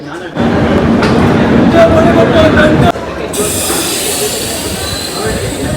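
A train at Jamnagar railway station gives off a loud, steady rumble and hiss, with a sharp shift in tone halfway through and faint voices underneath.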